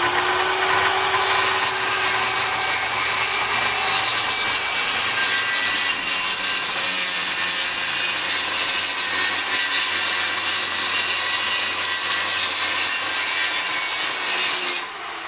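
A skill saw cuts a notch in wooden roof beams for a rabbit hutch, its continuous bright, gritty whine holding steady for about fifteen seconds, loud and close, then cutting off abruptly.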